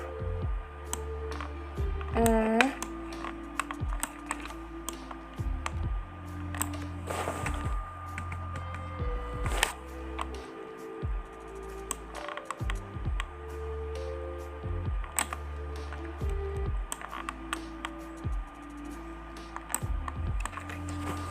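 Typing a formula on a computer keyboard during spreadsheet data work, clustered close key clicks in quick bursts separated by short pauses, over a low steady hum.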